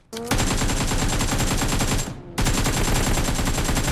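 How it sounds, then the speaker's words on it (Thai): Rapid automatic gunfire in the PUBG Mobile battle royale game, loud continuous bursts of shots that break off briefly and then resume at full intensity. "ใครยิงเนี่ยเฮ้ย ยิงกันทุกคน"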